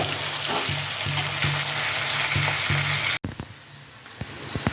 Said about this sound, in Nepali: प्याज हालिसकेपछि यो प्याजलाई हल्का पाक्न दिनु पर्यो